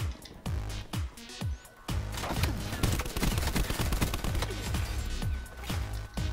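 Rapid gunfire from the video game Black Ops 4, with dense, overlapping bursts of shots that run almost without pause, loud and close, with some heavier crashing hits mixed in.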